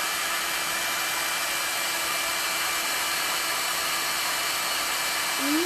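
A hair dryer runs continuously at close range, blowing on a handmade craft gift, a steady loud whooshing hum throughout, with a faint voice rising briefly at the very end.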